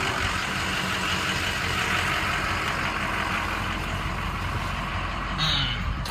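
A 2006 Ford F-350 pickup truck engine running at a steady idle close by, a constant rumble that cuts off near the end when the engine is switched off.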